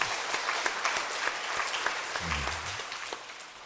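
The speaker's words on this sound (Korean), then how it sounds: "우리 한번 권사님한테 힘내시라고 박수 한번 좀 쳤죠" A church congregation claps in steady, sustained applause for a deaconess, a dense close patter of many hands lasting throughout, with a low voice briefly murmuring underneath.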